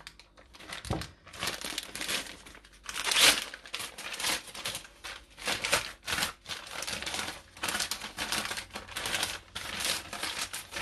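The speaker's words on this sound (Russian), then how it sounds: "Расправили пакет." A plastic piping bag for cake cream is crinkled and smoothed out, giving faint, continuous rustling and crackling with several sharper crunches.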